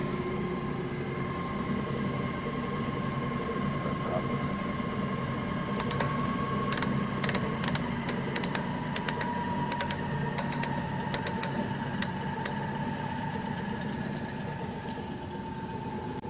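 Cosen SH-500M miter band saw running steadily with a continuous motor hum and whir, close and fairly loud, with a cluster of sharp ticking clicks partway through and no talk.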